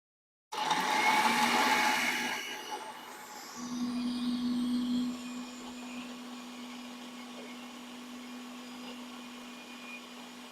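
An AGARO Grand food processor chops vegetables, whirring loudly in a steady grinding roar, easing to a lower hum partway through before running on at a quieter, even drone.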